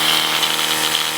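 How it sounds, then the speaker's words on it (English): An Oral-B compatible electric toothbrush fitted with a replacement head buzzes steadily up close, its motor giving a continuous high, even whir. "As you can tell, it is spinning as expected."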